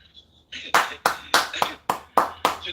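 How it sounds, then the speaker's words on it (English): A crowd claps in several sharp, rhythmic bursts, the applause rising and falling about twice a second, fairly loud and close. "Can we please clap our hands for Asukwo's mother?"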